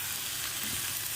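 Onions with minced meat sautéing in a pan for Egyptian-style cauliflower with minced meat, giving a steady, close, dense sizzle throughout with no voices.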